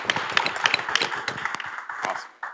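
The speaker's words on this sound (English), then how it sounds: "Can we give her a clap for her, please?" Audience clapping for a woman just introduced on stage, a short burst of fairly close, scattered claps lasting a couple of seconds.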